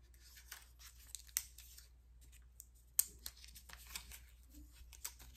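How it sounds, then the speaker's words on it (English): Protective paper peels off an Apple Watch SE 2022 screen: faint, close crinkling and tearing rustles with a few sharper snaps, no talk. "So let's take off the paper."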